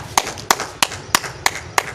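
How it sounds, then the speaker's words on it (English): Classroom applause for a student comes as six sharp, evenly spaced claps, crisp and close, over a quiet room with no talking. "Can we have a round of applause for Asha?"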